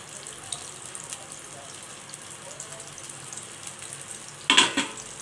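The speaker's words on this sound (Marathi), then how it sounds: "ही टिक्की अगदी शॅलो फ्राय करायची आहे." A black chickpea tikki shallow-fries in a little oil in a pan over medium flame, giving a soft steady sizzle, then a brief louder hiss and spatter near the end.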